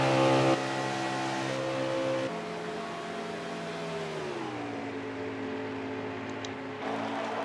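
A race car runs flat out at Talladega Super Speedway in a racing video game, a loud sustained engine drone whose pitch slides down and back up as it holds speed, with no talk.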